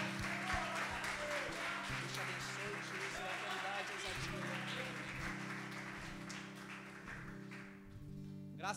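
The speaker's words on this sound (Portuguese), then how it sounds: "Forte aplauso para Jesus." Congregation applause in a church service fills the space, a steady wash of clapping under sustained keyboard or organ chords, with a crowd murmuring throughout.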